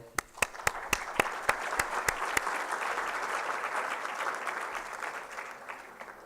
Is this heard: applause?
yes